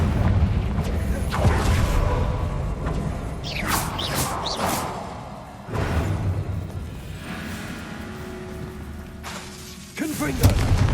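Confringo explosion spell in Hogwarts Legacy, a series of booming blasts and whooshing bursts spread across eleven seconds, with one sharp burst near the end, mixed with game sounds and a voice.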